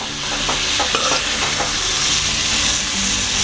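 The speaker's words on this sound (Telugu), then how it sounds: "పసుపు, ఉల్లిపాయలు గోల్డ్ కలర్ వచ్చే వరకు మనం ఫ్రై చేయాలి." Sliced onions with turmeric fry in a pan for an Andhra-style fish pulusu, giving a steady, close sizzle with bits of stirring scrape throughout.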